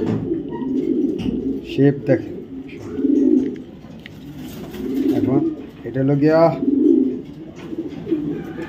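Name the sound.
pigeons cooing, young ARPCD club racing pigeon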